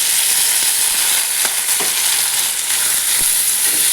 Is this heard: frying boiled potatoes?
yes